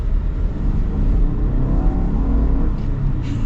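Turbocharged engine of a 2025 Subaru Outback Onyx Edition pulls under acceleration, a steady low rumble with a rising whir heard from inside the cabin, fairly loud and unbroken, without talk.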